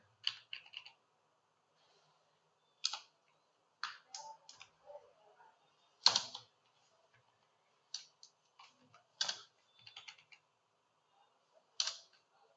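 Bursts of typing on a computer keyboard, quick clusters of light clacking keystrokes separated by short pauses, close and fairly soft in an otherwise quiet room.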